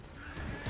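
A horse neighs in Red Dead Redemption 2 after being struck, a short, loud, close whinny that rises toward the end over rumbling game noise.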